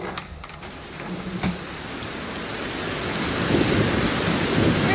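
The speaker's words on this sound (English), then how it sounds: "this continuous storm that lays us to the skin" A thunderstorm stage sound effect for a King Lear performance: steady heavy rain hisses throughout while low thunder rumbles and swells, growing louder toward the end, with no voices.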